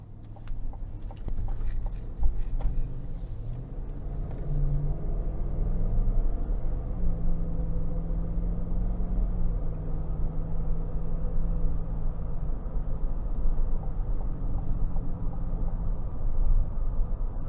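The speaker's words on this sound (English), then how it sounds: "next we're going to go ahead and take this 22 Tahoe out on the road and take it for a quick test drive" A 2022 Chevrolet Tahoe LT, a large SUV, cruises on the road, heard from inside as a steady low engine and road rumble with gentle hum, quiet and even throughout.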